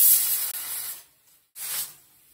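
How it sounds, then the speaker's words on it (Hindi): A pressure cooker whistle releases steam while dal cooks, giving two loud, broad hissing bursts separated by a short silence, with the first burst longer than the second. "तो यहाँ पर हमारे कुकर में 2 सीटी आ गई है"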